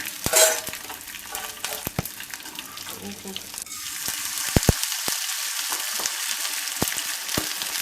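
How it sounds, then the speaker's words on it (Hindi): Edible gum (gond) frying in hot ghee for a festival thali, a close, steady sizzle and bubbling with occasional utensil clicks and scrapes. "इस तरह से घी गर्म होने के बाद डालते हैं, तो ये गोंद हमारा फ्राई हो जाता है।"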